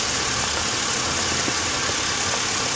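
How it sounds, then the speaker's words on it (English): A car engine idles steadily after about half an hour of running, warmed up to operating temperature during an overheating check. The low, even drone continues without a break, with no voices present. "The car has been running for maybe about 30 minutes or something like that"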